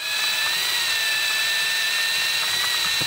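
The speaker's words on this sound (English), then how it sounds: "Change the drill bit. So this one's a 3mm drill. Goes in there, and this time I'm drilling just through the top layer" A power drill fitted with a 3mm bit whines steadily at high pitch while drilling through the top layer of material, a continuous close buzz throughout.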